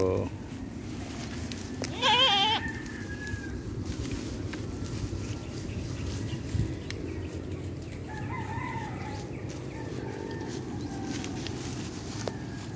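Goats on a small goat farm bleat now and then amid outdoor background noise, with a rooster crowing once and faint fowl sounds in the distance.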